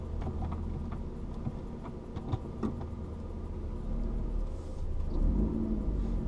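A 2011 Lotus Evora S Heritage Edition with a manual gearbox idles with a steady low engine rumble that swells slightly toward the end, heard alone without talk.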